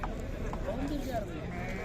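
Goats at an outdoor livestock market in Sokuluk bleat in short, wavering calls amid a busy background murmur, while someone talks nearby.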